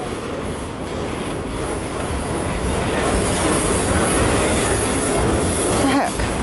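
CN X276 freight train rolls past close by in New Haven, Michigan, a continuous loud rumble of railcars with wheel noise and occasional squeals.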